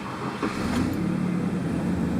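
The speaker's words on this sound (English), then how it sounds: "let's go start up the engine and see our readings" A car engine runs steadily after its mass airflow sensor was cleaned, a loud, even idle rumble close by with a slight rise in revs partway through.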